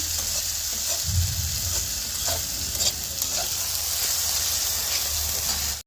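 Spice paste fries in a pan with a loud, continuous sizzling hiss close by, broken now and then by soft stirring scrapes. No voices.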